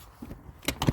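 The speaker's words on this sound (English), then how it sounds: "If I can get the door open." A polytunnel door on a winter farm is pulled open with two short scraping, rattling bursts near the end, close and fairly faint, after a quiet moment.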